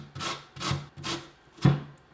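A raw potato being shredded on a box grater gives four rhythmic, evenly spaced rasping strokes, close and fairly soft, with no talking.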